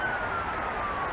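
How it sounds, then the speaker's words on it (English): An ambulance siren wails steadily at a distance, its rising and falling tone sustained throughout the short stretch with no talk over it. "listen to the ambulance. Listen to the siren."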